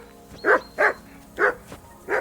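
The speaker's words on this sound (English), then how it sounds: "Call off that damn dog before he wolfs down the last of our meat" A dog in Kingdom Come Deliverance 2 barks four times in an even rhythm, each bark loud and close, against a quiet background.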